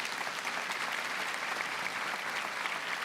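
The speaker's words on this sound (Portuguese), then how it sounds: "Eu quero uma salva de palmas a todos os sócios." Dense, sustained applause from an audience of members at a church gathering, an even wall of clapping for the whole stretch, close and steady with no talk over it.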